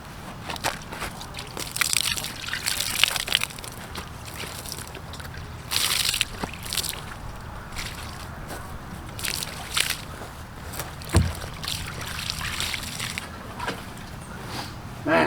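Water splashes and trickles over a gravestone in a Baptist cemetery as it is rinsed, coming in irregular sloshing bursts and drips at moderate volume, with occasional faint talk.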